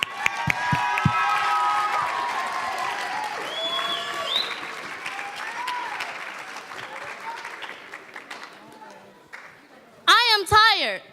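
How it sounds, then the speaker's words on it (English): A school audience at an Aspen Challenge student event breaks into loud, sustained applause with cheering, the clapping thinning out gradually before a short burst of shouting near the end. "let's give him a great big Aspen Challenge round of applause."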